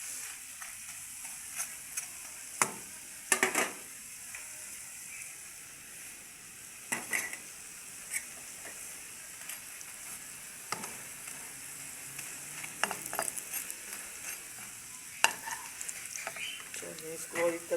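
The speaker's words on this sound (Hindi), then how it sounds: "ये तेल तड़के में जाएगा" Mustard oil sizzles steadily in a pan as tempering for kadhi, a continuous hiss broken by occasional sharp clicks and clatters of utensils, with no talking.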